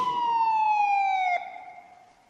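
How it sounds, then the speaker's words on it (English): A police car siren wails loud and close in one steady, slowly falling tone, then fades away as if the car is driving off; no talking. "A police car came to the telephone box."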